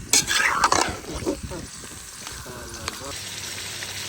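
Chicken curry stirred in a pan, a spoon scraping and clacking against the metal over a steady sizzle, with loud stirring early that settles into a softer simmer and a voice speaking.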